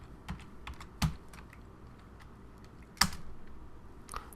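Computer keyboard typing of commands in the vi editor, a few sparse, quiet key taps with two sharper strikes, alone in a quiet room.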